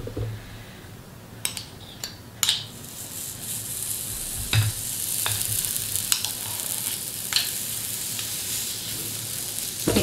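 Waffle batter cooking in a closed waffle iron, a steady soft sizzle and hiss with a few sharp clicks and knocks scattered over it, close and alone.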